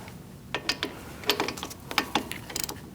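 A torque wrench clicks and ratchets in quick irregular bursts while tightening front brake caliper bolts on a 2016-2019 Chevrolet Cruze, close and crisp with no talk.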